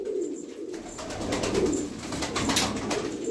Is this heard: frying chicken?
no